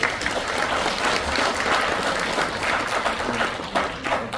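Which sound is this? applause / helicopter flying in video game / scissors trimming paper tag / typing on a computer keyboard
applause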